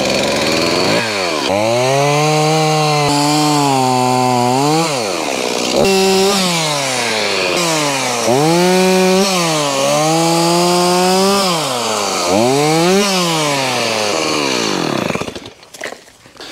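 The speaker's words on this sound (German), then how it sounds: "Kettensäge." A chainsaw cutting storm-damaged wood, loud and close, its engine revving up and down in long repeated surges as it bites in and eases off, then cutting out abruptly near the end.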